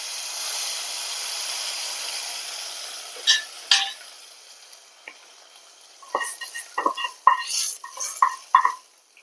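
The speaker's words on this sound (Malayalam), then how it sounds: "അപ്പം നമുക്ക് വറവ് ഒഴിച്ച് കൊടുക്കാം." Hot oil tempered with chilies and curry leaves is poured into a kadumanga mango curry, giving a loud hiss that fades over a few seconds. Clattering spoon and pan knocks follow as the curry is stirred.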